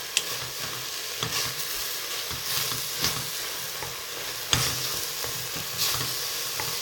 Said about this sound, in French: On met à feu moyen pour ne pas brûler la cannelle.